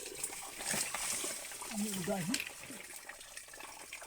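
Water keeps running from a pipe in a steady, soft rushing wash while someone talks over it in Filipino.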